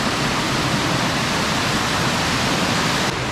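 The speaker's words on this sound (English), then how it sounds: "We have never seen the Bear Creek Falls falling like this." Bear Creek Falls roars in a steady, loud, unbroken rush of falling water that fills the whole stretch, with no other sounds standing out.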